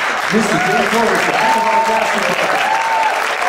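Library audience applauds steadily and loudly throughout, a dense wash of clapping, while an announcer speaks over it.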